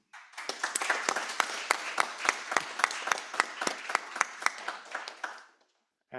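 Audience at a conference on litigation funding in China gives the panelists a round of applause: brisk, fairly close clapping with distinct sharp claps that builds, holds, then fades out.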